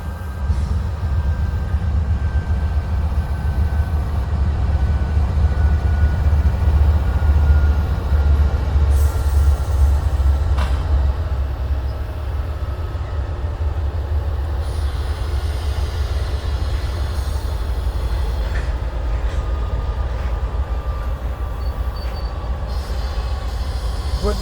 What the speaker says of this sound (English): What they call a grain train, a unit train.